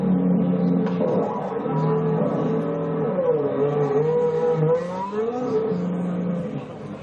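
A Ferrari race car engine revving and accelerating, with rising and falling engine tones heard through speakers in a hall, fairly loud and continuous.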